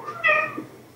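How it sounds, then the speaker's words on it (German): A cat gives a single short meow, close and clear, lasting under a second. "Katze."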